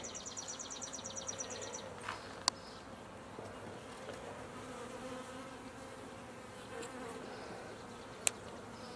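Honey bees buzz steadily around a hive holding a caged tiger-tail virgin queen, a dense insect drone lasting throughout at moderate level, with a couple of sharp clicks.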